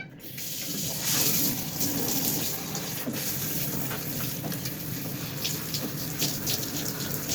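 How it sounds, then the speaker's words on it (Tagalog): Tap water runs steadily and loudly while hair is rinsed under it, a continuous splashing gush with no talking over it. "So, kailangan natin ibanlawan. Kasi sa direction kasi, banlawan daw bago i-dry."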